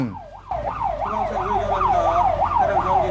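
A fire engine siren wails during an emergency dispatch through congested city traffic, loud and close, with a steady rising and falling sweep that repeats roughly every half second after starting abruptly.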